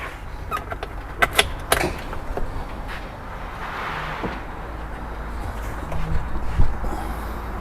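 A Polaris RZR Pro R UTV is lowered so its front suspension compresses, giving sharp creaks and clicks near the start, then softer sporadic creaking over low background noise.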